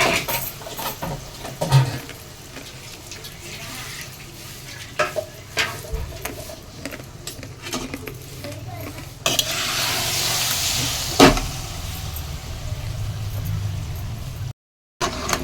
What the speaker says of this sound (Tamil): பலாப்பழத்தையும் நல்லா பிசைஞ்சு வச்சுட்டு இப்போ அதில் போட்டுக்கலாம். போட்டு நல்லா வதக்கி எடுத்துக்கலாம்.